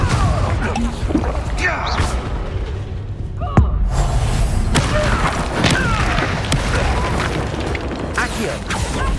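Confringo fire-spell blasts in the Hogwarts Legacy video game, a loud, dense battle mix of booms, whooshes and a sharp bang, running continuously under shouted combat voices.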